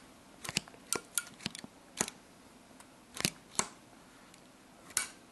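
The metal tang of a Mag Stik Plus arcade joystick catches with a series of sharp, close clicks, sometimes doubled, in an irregular rhythm and without voices.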